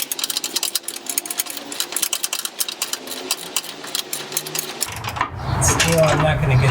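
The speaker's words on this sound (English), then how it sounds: "The bottom one you should be able to turn with the socket wrench." Socket wrench ratcheting a tow hook bolt on a Jeep ZJ, a rapid, close string of sharp clicks for several seconds before a louder rushing noise takes over.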